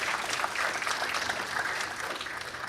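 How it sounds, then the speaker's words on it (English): A church congregation applauds its volunteers during a Sunday service, a dense, steady wash of many hands clapping at moderate volume throughout, with no clear talk over it. "Let's have a big applause, please, for the volunteers."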